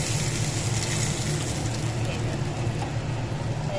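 Local fish fry in hot oil in a pan for a home dinner, giving a steady, dense sizzle and crackle at close range.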